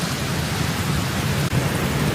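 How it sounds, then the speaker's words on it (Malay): Steady rain pours down in a storm, heard from inside a car at night, a dense continuous hiss with low rumble throughout and no voices. "Alamak, Hujan lah pula."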